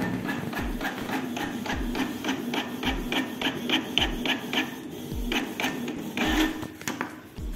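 An office printer printing out an Excel spreadsheet, running as a steady mechanical whir with rapid, regular clicks and knocks from the paper feed, close and fairly loud throughout with no talking.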